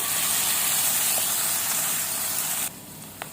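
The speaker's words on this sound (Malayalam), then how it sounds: "ഈ സവാള നന്നായിട്ടൊന്ന് വഴറ്റിയെടുക്കാം" Sliced onions sauté in hot oil with green chillies and curry leaves for a Kerala clam roast, a loud, dense, steady sizzle up close that drops suddenly to a quieter hiss near the end, with no one talking.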